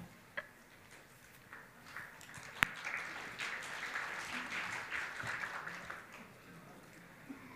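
A theatre audience at a Deyunshe xiangsheng comedy show claps after a performance. The applause is faint and distant, swells in the middle and then fades, with a sharp tap near the start and murmuring voices beneath.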